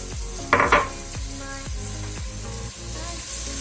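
Lentils stirred into spiced tomato paste in a pot, heard as repeated scraping strokes of a spoon against the pot, with a brief louder clatter early on, over a low steady sizzle.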